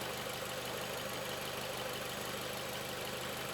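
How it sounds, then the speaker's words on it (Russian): A car engine treated with an ester oil additive idles in a steady, even hum with a faint rhythmic tick, constant and unbroken with no voices. "Замеряем уровень шума на холостых оборотах."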